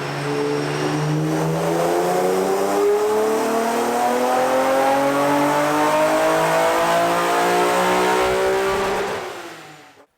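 A Nissan Z engine climbs steadily through the revs during a dyno pull, a loud rising roar with clear harmonic sweep that holds near full volume before cutting off abruptly at the end.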